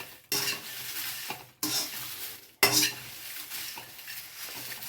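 Spices for sambar powder dry-roast in a pan on a medium stove, stirred with a utensil in three bursts of scraping and rattling, each starting abruptly with short quiet gaps between.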